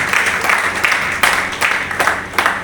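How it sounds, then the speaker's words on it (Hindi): An audience at a business seminar claps loudly and steadily for a few seconds, a dense patter of many hands that swells in small waves and never stops. "ताली बजा लीजिए एक बार जोरदार।"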